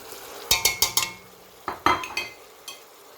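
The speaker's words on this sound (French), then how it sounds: "ونخلوه يتقلى" Chicken pieces dropped into hot oil with spices for a farm-chicken dish with rice and mushrooms: a few sharp clinks and stirring scrapes, then bursts of sizzling frying, close and moderately loud with no talk.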